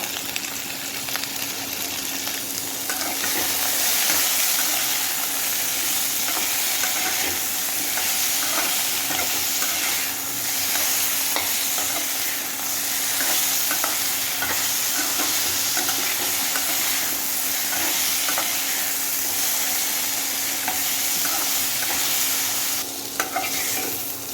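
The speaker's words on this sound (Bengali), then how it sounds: "মাছগুলো ভেজে নেবো।" Hilsa fish frying in a pan of oil with salt, a steady broadband sizzle running the whole time with occasional stirring clinks, close and fairly loud, no talking.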